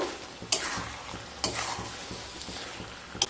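Stirring fried pointed gourd, potatoes and prawns together in a pan: a steady low sizzle with soft scraping strokes and a few sharp spatula clacks against the metal, close and with no talking.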